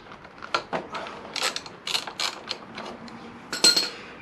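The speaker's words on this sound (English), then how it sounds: "What we're going to do, remove this single bolt," A ratchet works a single bolt on a Honda VFR800 motorcycle, making a quick series of faint, close clicking bursts with brief pauses between them.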